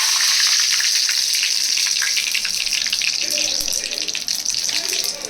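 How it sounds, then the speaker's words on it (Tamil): Curry leaves dropped into hot oil with popped mustard and fennel seeds, a loud, dense, hissing sizzle that starts at full strength and eases slightly toward the end, no talk. "சோம்பு பொரிஞ்சிருச்சு, கருவேப்பிலை போட்டுப்போம்"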